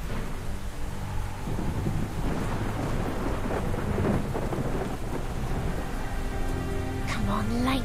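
Thunder rumbling through a heavy storm in The Perils of Man video game, with steady rain and low crashing rolls over about eight seconds, a brief voice murmuring underneath near the end.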